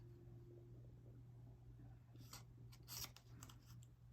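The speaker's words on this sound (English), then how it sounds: "Probably need my sharper pointed scissors." Scissors snipping paper while fussy-cutting around a butterfly die-cut shape, a few quiet crisp cuts clustered near the end over a steady low hum.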